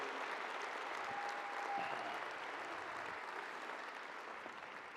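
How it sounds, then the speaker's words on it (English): Steady applause from a graduation stole ceremony audience greets James Harden, a continuous, fairly faint and distant wash of clapping from a large crowd that stays even throughout. "y'all please join me in a round of applause for Harden"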